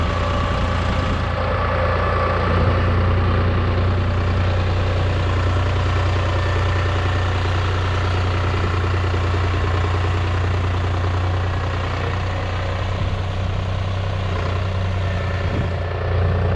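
A New Holland T580B tractor's heavy diesel engine runs steadily throughout, a loud, low idling rumble with a constant hum and no speech.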